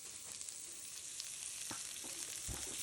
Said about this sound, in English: Got a bit of onion, stir fry that up.